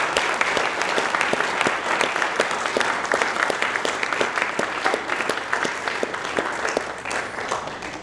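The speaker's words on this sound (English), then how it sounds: "Okay, give them a round of applause." An awards ceremony crowd applauds the engineering scholarship recipients, steady dense clapping with crisp individual claps audible throughout, sustained for around eight seconds at an even, fairly close level.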